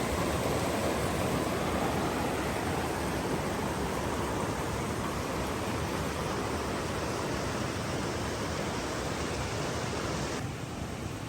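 A mountain stream along a hiking trail, serving as a water source, gives a steady, full-band rush of flowing water that stays constant and fairly close throughout, with no talking.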